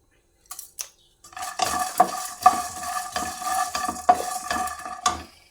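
Cumin seeds dropped into a hot pan and stirred with a metal spoon, sizzling loudly with repeated scraping and clinks against the pan, after two quick taps at the start; no talking.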